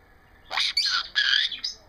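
Alfie, a pet conure, lets out a series of loud, harsh squawks in three or four close bursts, near and alone with no talking.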